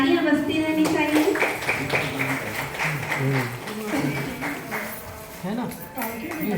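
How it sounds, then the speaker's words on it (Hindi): Audience clapping at a women's awareness meeting on the bank of the Narmada at Bhedaghat, a continuous, fairly close patter of many hands with voices mixed in throughout. "तालियां बजती रहनी चाहिए"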